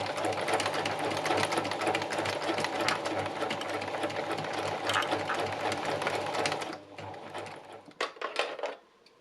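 A sewing machine stitches knitted boucle fabric in a fast, steady mechanical whir that runs for several seconds, then stops and gives way to a few faint clicks and handling sounds.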